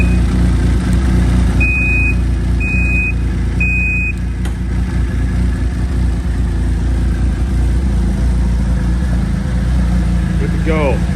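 A Ski-Doo 1200 snowmobile engine idles steadily in reverse, loud and close, with three short electronic reverse beeps sounding early over the running motor.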